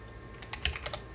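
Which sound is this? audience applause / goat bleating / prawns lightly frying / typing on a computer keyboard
typing on a computer keyboard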